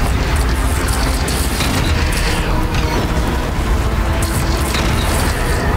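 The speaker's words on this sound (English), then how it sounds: "This is a constant barrage of missiles" A relentless missile barrage in Horizon Zero Dawn during a boss fight: continuous loud booming explosions and rumbling with no pause, dense and close throughout.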